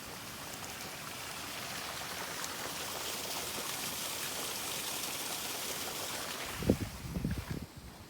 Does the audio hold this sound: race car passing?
no